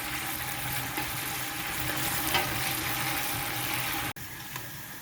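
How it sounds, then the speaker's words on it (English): Tomato puree fries in a big pot for Nigerian party jollof rice, a steady close sizzling hiss with soft stirring scrapes that stops abruptly near the end. "I will stir it together until it is properly fried."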